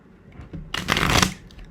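A deck of tarot cards is riffled and shuffled in one quick, close, crisp burst of flapping after a few soft handling taps.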